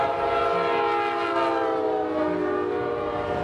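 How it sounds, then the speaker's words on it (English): Train locomotive passing steadily, a loud sustained rumble with strong tonal horn-like harmonics and no talk. "we wanted to demonstrate to you just how quiet these locomotives are"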